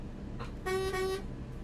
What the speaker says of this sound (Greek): Πατήσουμε και μία κόρνα.